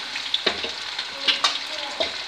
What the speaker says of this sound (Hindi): जब ये फ्राई हो जाएंगे, मुकम्मल तैयार हो जाएंगे, तो आप इसे निकाल लेंगे